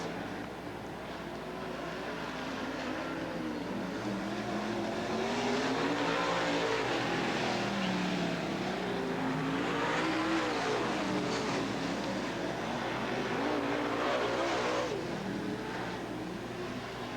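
Race cars roaring around the oval at Southern Oregon Speedway, a steady, dense engine drone with rising and falling passes, heard from a distance and without any talk.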